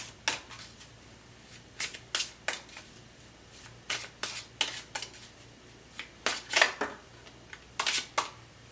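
Tarot cards being shuffled and drawn in a quiet room: a steady run of crisp, close flicks and slaps of card stock, grouped in short bursts with brief pauses and no talk.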